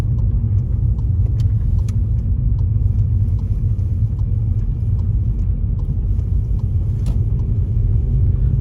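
Car travelling along a road to a cemetery in Iceland on a cold, sunny day: a steady, low engine and tyre rumble that holds for about nine seconds with no one speaking.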